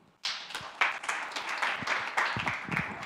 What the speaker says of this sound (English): Makofi kwa Professor Anasei